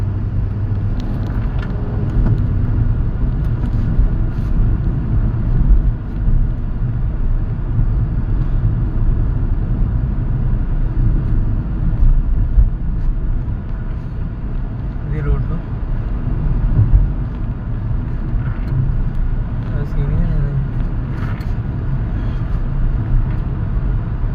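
A Hyundai Creta cabin on a road trip from the Andhra Pradesh secretariat to the High Court carries a steady low engine and road rumble throughout while someone talks over it.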